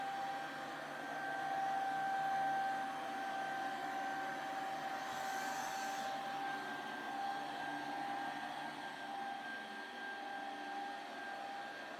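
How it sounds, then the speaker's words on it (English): A Ryobi battery-powered cleaning vacuum runs steadily at close range, a continuous airy roar with a thin motor whine that holds level throughout, no voices. "Usually battery powered, cleaning vacuums like this, they don't have as much power as a corded"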